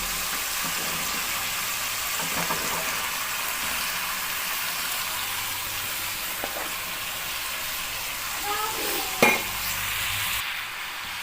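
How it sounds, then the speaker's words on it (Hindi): Chopped carrots stirred into sizzling masala in a pot, giving a steady frying hiss with scraping stirs and a sharp clink near the end. "अब इसमें ये मैंने गाजरें कट करके रखी थी, ये मैं शामिल कर रही हूँ।"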